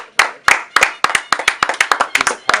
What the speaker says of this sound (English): we gotta clap it up for that, man